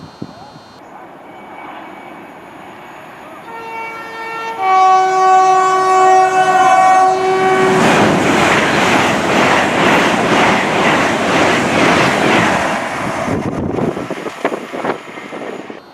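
A train passing Prestonpans station on the Scottish East Coast Main Line, its horn sounding two clear sustained tones before the loud roar and rhythmic clatter of the carriages rushing by up close, then fading away.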